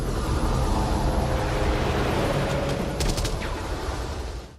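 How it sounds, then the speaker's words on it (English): A helicopter in a film chase scene swoops low over the Long Beach Expressway, a dense, loud roar of rotor and engine noise with rapid bursts like gunfire partway through, continuous and close. "the helicopter swoops just above the Long Beach Expressway, its blades dangerously close to the concrete"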